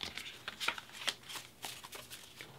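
A tarot deck is riffled and shuffled by hand, giving a quick run of papery flicks and soft slaps in uneven bursts, close and fairly quiet, with no speech.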